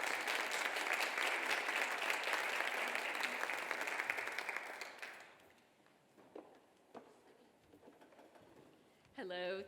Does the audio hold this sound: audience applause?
yes